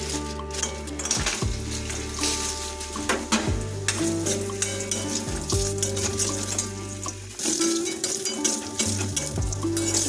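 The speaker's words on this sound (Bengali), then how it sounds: "এই গরম তেলে প্রথমে আমরা 100 গ্রাম বিউলির ডালের বড়িগুলো ভাজা করে নেব।" Urad dal bori frying in hot mustard oil in a kadai, a steady close sizzle with occasional stirring scrapes throughout, no talking.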